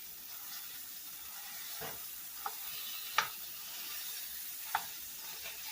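Sausage sizzles in a skillet as it is broken up, with a steady soft frying hiss and a few light scraping taps from a utensil, close and quiet with no talking.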